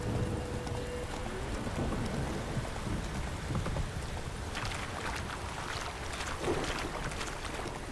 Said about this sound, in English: Even with this thunderstorm.